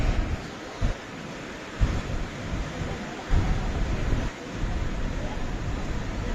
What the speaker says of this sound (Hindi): अभी हम आ चुके हैं सरस्वती नदी के पास। आप सामने वो सरस्वती नदी देख सकते हैं।